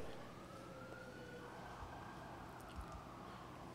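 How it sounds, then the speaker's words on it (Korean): Fire engine siren passes outside, a faint wailing tone drifting up and down in pitch behind a steady indoor hum, distant and muffled. "밖에 소방차가 지나가네요"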